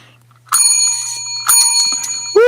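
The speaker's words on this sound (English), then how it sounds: "When we get to 400 thumbs up, we ring the gong." A small gong rung in a basement, struck twice to give loud, bright, sustained metallic ringing tones, followed by a sharp rising squeal at the end.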